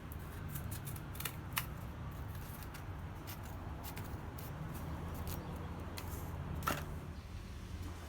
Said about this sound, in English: I want this scissor for when I'm packing stuff, to cut heavier stuff like this cardboard